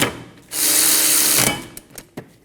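A power tool snugs down caliper bolts on a Scion xB brake job, one loud whirring burst of about a second, followed by a few faint clicks and knocks.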